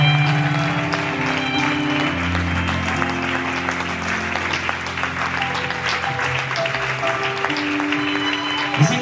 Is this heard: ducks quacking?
no